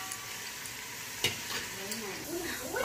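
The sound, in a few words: onions frying in oil and ghee, stirred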